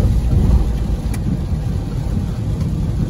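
Heavy rain pours onto a Citroen C4 Cactus during a downpour, a loud, steady wash of broadband hiss with low rumble, continuous and unbroken, no voices.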